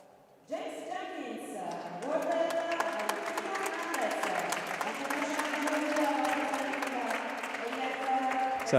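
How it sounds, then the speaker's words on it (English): An audience applauds steadily for a gold medalist at a climbing lead finals ceremony, a sustained wash of clapping rising after a quiet start while a commentator talks over it. "He's given a round of applause as he approaches"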